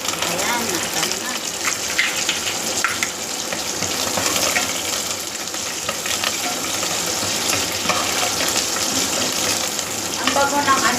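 Curry leaves fry in hot oil with a loud, dense sizzle that crackles continuously, with faint talk underneath.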